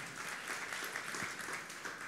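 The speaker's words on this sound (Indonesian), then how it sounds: "kita beri tepuk tangan yang meriah untuk kemuliaan Tuhan" A church congregation applauds during a sermon with a steady, dense wash of clapping that holds at an even level throughout.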